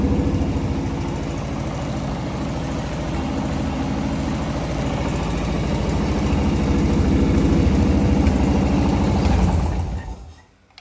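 A Harley-Davidson Evo chopper engine idles steadily and loudly with a throbbing low rumble for about ten seconds, then cuts off abruptly.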